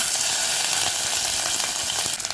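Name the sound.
mustard seeds, shallots, curry leaves and dried chili sizzling in oil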